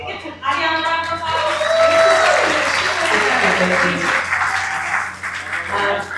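A festival audience in Dallas claps at length, continuous dense applause with voices and some tonal sound running beneath it.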